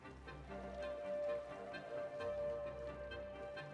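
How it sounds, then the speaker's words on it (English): Rain patters steadily in the Cities Skylines city-building game, a faint, even wash of drops with small ticking sounds, no voices. "And it's raining."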